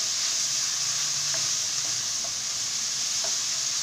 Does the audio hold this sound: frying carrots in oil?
yes